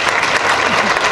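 Audience applause filling a conference hall at a parents' event at CCH Azcapotzalco, steady dense clapping from many hands, loud and close throughout the short moment.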